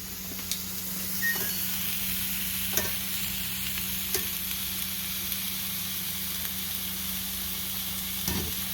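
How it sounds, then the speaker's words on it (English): Shrimp and chorizo sizzle steadily in a hot pan on a stovetop, a soft continuous frying hiss broken by a few faint clicks and scrapes as the food is tossed. "I'm going to pull those shrimp out and just give them a quick toss."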